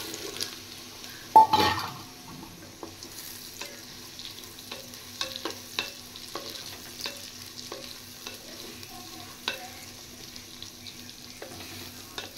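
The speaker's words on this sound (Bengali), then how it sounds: "তেল গরম হয়ে গেছে, এবার আমি সয়াবিনগুলো দিয়ে দেব।" Soybean chunks frying in hot oil in a new pot, a quiet bed of sizzle broken by scattered sharp clicks and scrapes of stirring, with one louder clatter early on.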